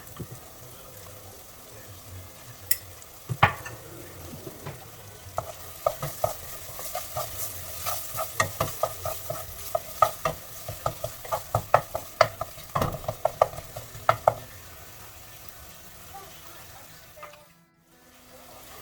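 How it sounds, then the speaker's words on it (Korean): Kasuri methi stirred into a tofu and spinach curry in a pan, a steady sizzle with a run of rhythmic spoon scrapes and knocks that stop, leaving a brief hush at the end. "가스리 메티 넣고 1분 정도 볶으면 됩니다."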